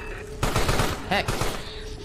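Rapid bursts of gunfire from the video game Carrion rattle in a quick volley, close and fairly loud. A voice talks over part of it.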